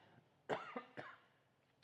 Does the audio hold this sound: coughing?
yes